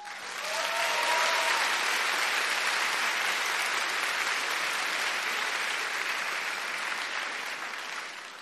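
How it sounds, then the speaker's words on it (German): Sustained applause from a university science-slam audience for the caterer, a broad even roar of clapping that swells in the first second, holds steady and tapers slightly toward the end, with a brief whistle near the start. "Kräftigen Applaus für unseren Caterer hier,"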